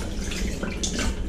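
Water splashes and trickles during a ferret's bath, a short burst of close, busy wet sound.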